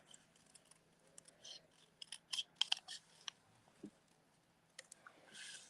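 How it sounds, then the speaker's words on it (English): Scissors cutting around a stamped, embossed paper card up close, a series of quiet crisp snips in irregular bursts with pauses between cuts, soft handling rustle around them. "I'm just going to kind of cut around it."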